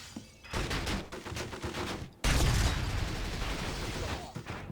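Gunfire aimed at the player in the 007: From Russia With Love video game rattles in rapid, loud volleys, with a brief lull before a heavier, denser burst continues to the end.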